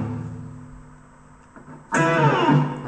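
An electric guitar plays a blues lick. After a quiet fading tail, a loud, bright burst of notes hits near the end and rings on alone.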